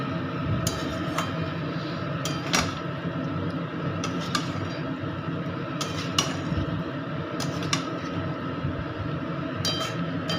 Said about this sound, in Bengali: এবার আমি এতে আলুটা দেব, সেদ্ধ করা আলুটা দেব, দিয়ে এটাকে কষাতে আর একটু মিক্সড করব